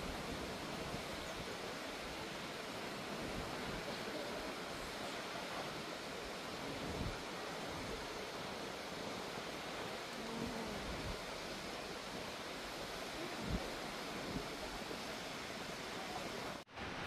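Nachi Falls near Kii-Katsuura in Japan pours down in a constant, dense roar of falling water, a steady broadband rush that carries on unbroken for the whole stretch.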